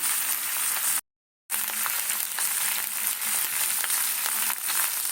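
Vegetables with onion frying in a pan for a vegetarian dish, a steady close sizzle with faint stirring, broken by a brief silent gap.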